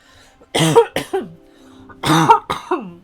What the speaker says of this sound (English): I so apologize for the coughing.